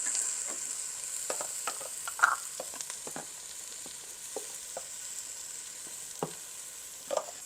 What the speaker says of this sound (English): let's mix this around really good